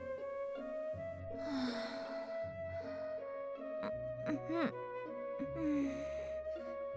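A voice performer imitates a young woman snoring in her sleep, with a rhythmic series of nasal snorts, wheezy breaths and sighs at close range.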